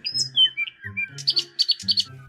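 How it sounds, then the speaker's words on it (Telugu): Two birds perched in a large neem tree chirp in quick, bright bursts, starting with a few scattered calls and then a rapid run of tweets, close and clear over a low background hum. "ఇంతలో ఒక పెద్ద వేప చెట్టు మీద 2 పక్షులు కూర్చొని కిచ్కిచ్మంటూ అరుస్తూ ఉన్నాయి"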